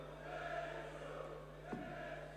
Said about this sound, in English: This crowd are all here for Sulovic.